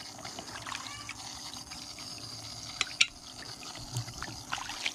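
Rocks and ore being rinsed with water using a double rinse method, heard as soft trickling and splashing water with a few sharp clinks of stone in a container.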